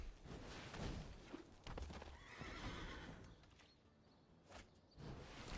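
A horse neighs and whinnies as a horse card is played in MTG Arena, a game sound effect with clip-clop hoofbeats and a drawn-out whinny in several bursts.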